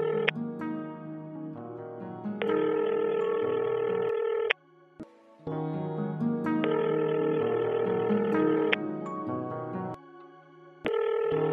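A phone call rings through to a busy line, heard as a repeating electronic telephone tone in long sustained bursts separated by short silent gaps, clear and alone.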